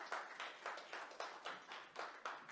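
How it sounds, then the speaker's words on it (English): Scattered clapping from a small audience at a youth-potential panel discussion, coming in rhythmic bursts about every half second, moderately faint and with no voices over it. "Can we give him a round of applause?"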